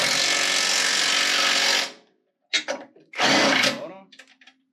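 Pneumatic impact wrench loosening nuts during a modified 4L60E transmission install, a loud continuous rattling burst of nearly two seconds, then after a pause a second shorter burst, with brief speech between.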